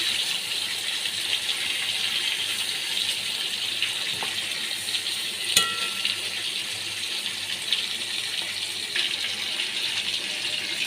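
Hilsa fish frying in a pan with eggplant, a steady hiss of bubbling oil throughout, close and fairly loud, with a few brief clinks and scrapes partway through.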